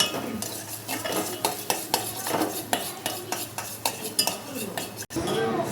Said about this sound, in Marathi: पाहू शकता आपण मस्त परतून घेऊ याला